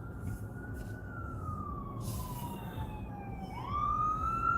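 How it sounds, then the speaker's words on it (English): An ambulance siren wails, sweeping slowly down in pitch, then jumps back up as a police car siren joins, over steady traffic rumble. "That's the ambulance and a police car."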